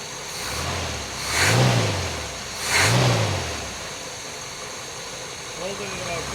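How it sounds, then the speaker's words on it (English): A 1959 Chevrolet Corvette C1 with a 283ci V8 is revved in two strong, rising-and-falling blips, then settles back to a steady idle, heard up close with no talk over it. "Rev it for me a little bit."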